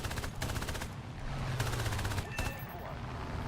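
Rapid bursts of aircraft machine-gun fire rattle in War Thunder while a British plane sits on a German fighter's tail, the faint repeated bursts running under a continuous engine hum.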